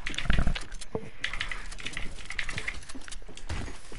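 A computer keyboard clatters close by during a gaming session, a quick irregular run of light plastic key clicks with a few heavier presses, no voices.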